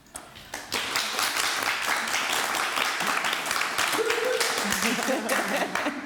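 Audience at a book festival author event applauding loudly and steadily, a rowdy crowd clapping together for several seconds after a faint start.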